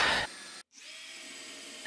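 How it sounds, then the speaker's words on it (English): A power drill bores bolt holes in a wall for a full-motion TV mount, a high whirring burst that cuts out, then a quieter steady whine before spinning up again, close by. "Now let's drill out those bottom bolt locations."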